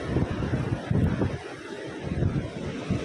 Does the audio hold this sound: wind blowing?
yes